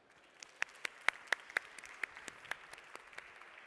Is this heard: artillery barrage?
no